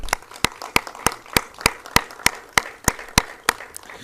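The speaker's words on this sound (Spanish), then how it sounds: "Un fuerte aplauso para usted, por favor." Applause for a doctor at a lecture, heard as a series of about a dozen sharp, evenly spaced claps in a steady rhythm, each one loud and distinct over a faint room background.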